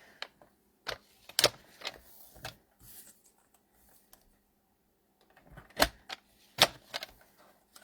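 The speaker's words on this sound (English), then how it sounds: "we will grab my paper trimmer" Paper trimmer slicing paper strips for a stamped card, a series of crisp clicking, sliding cuts in irregular bursts, close and fairly quiet with pauses between.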